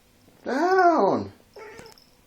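Domestic cat giving one drawn-out, complaining meow close by, followed by a shorter, softer second vocalization after a brief pause.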